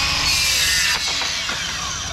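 Hand saw cutting through a mitred timber skirting board, a steady rasping stroke sound running close and continuous for about two seconds, with no talk.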